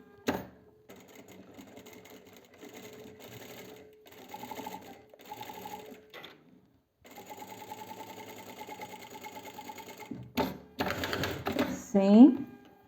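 A domestic sewing machine stitches the neckline of a midi dress with shirred elastic, running in several steady bursts separated by short pauses, close and clear, with a voice rising near the end.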